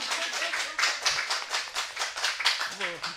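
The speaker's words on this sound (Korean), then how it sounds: "박수 좀 한번 해드리자" Church audience clapping in a steady, rhythmic beat during a Sunday afternoon service, with voices talking over the claps.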